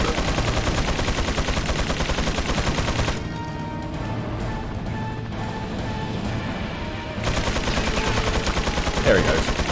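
Dense, loud gunfire and impacts from the Resident Evil 4 video game, with a rapid barrage, a brief quieter lull in the middle, then more heavy shooting.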